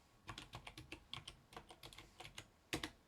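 Quick irregular keystrokes on a computer keyboard as a password is entered, a steady run of close, crisp clicks ending in a louder final pair of taps.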